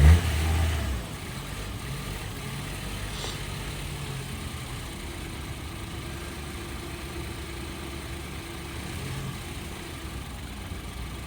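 A 2013 Ford Escape at a police auction idles quietly and steadily after a jump start, a low smooth engine hum with a brief louder burst at the very beginning and no talk.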